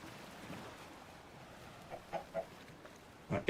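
A chicken riding in a boat in a pirate-themed video game gives a few short, soft clucks over a steady hiss of background ambience, with the last pair near the end.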